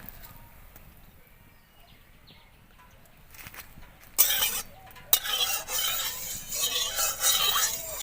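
Mustard oil heating in a pan for frying, first a quiet low hiss, then sharp clatters and a brighter, louder crackling sizzle for the last few seconds, close by.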